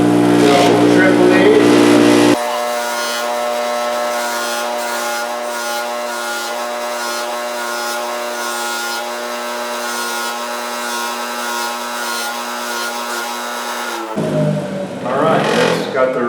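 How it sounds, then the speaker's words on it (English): A motorized buffing wheel pre-polishing thick silver pick blades, giving a loud, steady whirring hum with a grinding rub over it, close up and continuous for most of the clip. "This is the buffing wheel. Turn it on."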